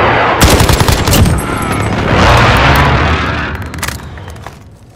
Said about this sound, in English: Enemy precision airstrike. Take cover.